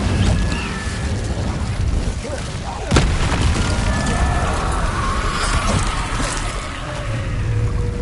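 A fiery spell cast in Hogwarts Legacy lands as a sharp, loud burst around the three-second mark, set against a dense, continuous roar of game ambience and effects.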